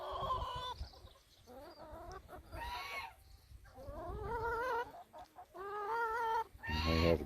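Hens cluck in repeated, close bursts of clucking calls outdoors, with wind rumbling in the background between calls.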